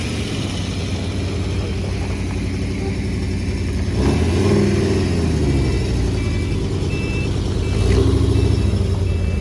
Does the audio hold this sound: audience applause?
no